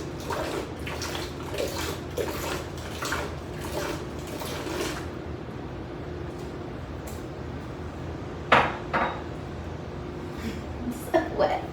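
Water is poured and splashed while cleaning a home, a steady running wash with a few sharp splashy bursts near the end; a voice is heard faintly at moments.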